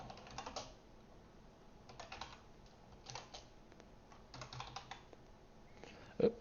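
Fast, uneven clicking of a computer keyboard while coding, with bursts of keystrokes and short pauses, close and moderately quiet, ending on a sharper tap.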